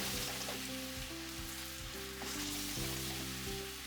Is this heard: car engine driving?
no